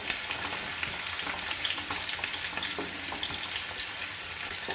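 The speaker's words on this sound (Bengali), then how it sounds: "তেল গরম হয়ে গেছে, দেব পেঁয়াজ কুচি।" Chopped onion sizzling steadily in hot oil for fried rice, a dense continuous frying hiss close up with faint tap-like stirring, no voices.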